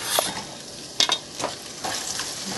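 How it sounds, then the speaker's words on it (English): Onions and garlic go into sizzling oil with roasting cumin seeds, giving a steady close-up fry and crackle broken by a few sharp stirring scrapes against the pan. "here you can see that the oil is sizzling and the cumin seeds are roasting"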